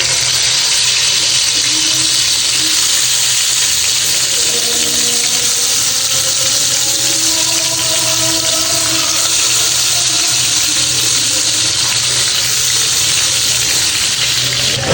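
Tilapia rubbed with turmeric and chili sizzles in hot frying oil, a loud, close, unbroken hiss that holds steady throughout with no talking.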